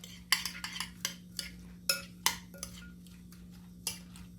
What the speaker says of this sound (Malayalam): ഇനി നമുക്കിതെല്ലാം കൂടി നന്നായിട്ടൊന്ന് മിക്സ് ചെയ്തെടുക്കണം.